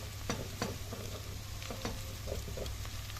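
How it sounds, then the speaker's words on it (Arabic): Crushed garlic is stirred into meat sizzling in a pot, a faint steady fry hiss with soft scraping strokes and light taps of the spoon against the pan. "هنزل بالتومه بتاعتي، التوم المهروس بتاعي، هديله تقليبه كده"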